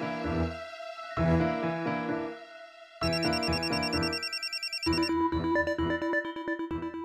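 A mobile phone rings loudly with a repeating electronic melody, its tune shifting through several distinct phrases, with no talk over it.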